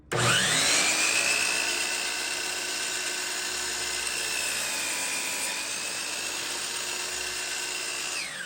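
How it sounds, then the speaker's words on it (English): A power saw spins up with a whine and then holds a steady high motor tone while it cuts a taper in a wooden dresser leg, close and continuous. "put it on my line, and then make my cut for the taper."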